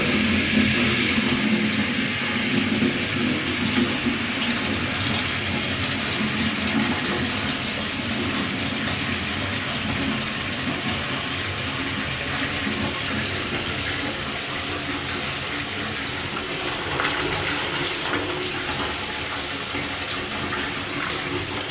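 Water from a shower head pours steadily through a very large funnel and pipe into a 9-litre marked bin, a continuous full hiss of running, filling water with no talk over it.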